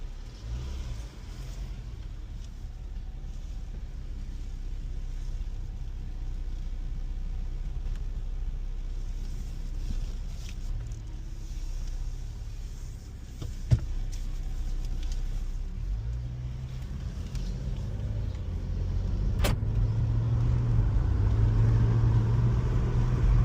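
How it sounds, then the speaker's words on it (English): Jeep on a quick test drive with a reported ticking noise: a faint, steady engine and road drone from inside the vehicle, rising slightly toward the end, with a single sharp tick midway and no talking. "Take it for a quick little drive."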